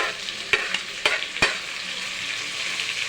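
Tomato and carrot stir-frying in a hot pan for a chicken kuska dish, a steady close hiss of sizzling oil broken by a few sharp clinks of a spoon stirring against the pan.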